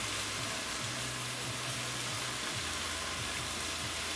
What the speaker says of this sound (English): So I'm sauteing a little bit more now, and the goal is to just get the spinach being cooked.